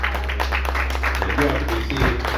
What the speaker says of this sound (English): Saints, let's clap our hands for these two.